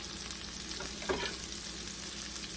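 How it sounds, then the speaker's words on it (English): Steady sizzling of potatoes, smoked sausage and onion frying in an iron pan, a continuous crackling hiss with a few louder pops, fairly quiet and close. "You can hear this frying."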